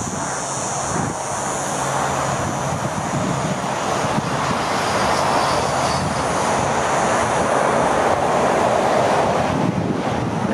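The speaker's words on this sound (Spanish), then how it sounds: "aquí al lado hay una autopista y no paran de pasar coches" Loud, unbroken roar of cars streaming past on a motorway right beside an abandoned house, with a broad, rushing wash of traffic noise and no voices.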